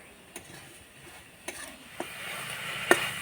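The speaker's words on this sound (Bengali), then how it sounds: "নাড়াচাড়া করে আমি পুরটা তৈরি করে নিয়েছি" Coconut and jaggery filling stirred in a pan, a soft sizzle under scattered spoon scrapes and clicks against the metal, close and quiet, with one sharper knock near the end.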